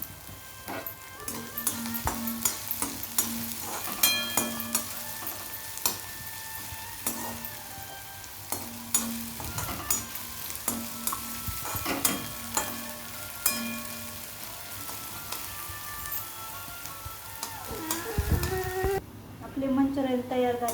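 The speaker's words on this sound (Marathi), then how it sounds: "त्याच्यानंतर कांदा कांदा ब्राऊन होईपर्यंत भाजायचा" Chopped onion sizzles steadily in hot oil while cooking down to brown for a gobi manchurian gravy, with a loud continuous frying hiss, repeated stirring clicks against the pan, and a voice speaking over it.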